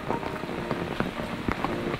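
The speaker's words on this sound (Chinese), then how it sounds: "现在雨后还是在下雨" Rain falls steadily on a forest trail in the mountains near Huisun Forest in Nantou, Taiwan, a soft continuous patter with scattered louder drips and no voices.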